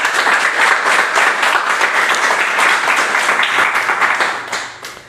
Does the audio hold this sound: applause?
yes